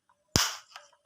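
Hard plastic Kinder Joy capsule snapping open in a single sharp, close crack that decays quickly, followed by faint small plastic clicks in an otherwise quiet room.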